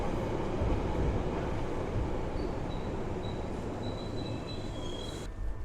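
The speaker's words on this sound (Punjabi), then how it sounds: "ਸੋ ਆਪਾਂ ਹੁਣ ਟ੍ਰੇਨ ਦੇ ਵਿੱਚ ਜਿਹੜਾ ਉਹ ਬੈਠ ਗਏ ਆ ਤੇ ਇਹ ਟ੍ਰੇਨ ਸੈਂਟਰਲ ਲੰਡਨ ਤੱਕ ਚਲੇ ਜਾਣੀ ਆ" Steady, loud rumble and rolling drone inside a passenger train heading into central London, continuous throughout with faint higher whines drifting in and out.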